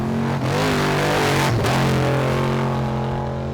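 A Camburg race truck's engine drones loud and close throughout, its pitch dipping and swelling briefly as it drives, with no voices over it.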